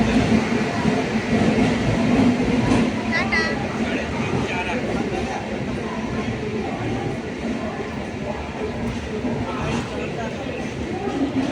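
Steady, loud rumble and rattle from inside a moving train carriage, continuous throughout, with faint voices of passengers in the background.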